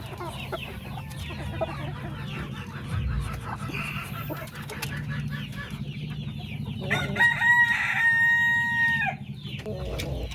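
Hens cluck steadily close by on a small farm while a rooster crows loudly near the end, the birds heard alone without talk.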